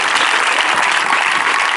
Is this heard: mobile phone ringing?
no